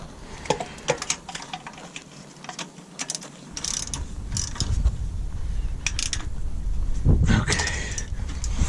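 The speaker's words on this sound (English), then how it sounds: "I need my 10mm. That's my little ratchet." Small 10mm ratchet working a bolt while replacing a crankshaft position sensor, rapid clicking pawl ratchets and creaky mechanical turning close by, with rustling and a rising rumble of handling noise toward the end.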